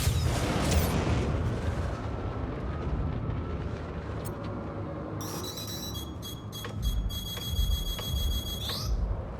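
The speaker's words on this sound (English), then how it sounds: "we're gonna have to just shoot the missile at him and go low" Missile launch and blast in the Star Citizen space game: a loud broadband whoosh and rumble up front, a sustained low roar underneath, then bursts of shrill electronic beeping and squealing tones toward the end, with no talking.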